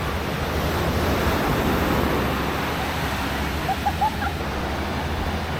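Waves washing steadily onto Railay Beach in Thailand, a constant broad roar of surf with wind noise on the microphone and a few faint distant voices.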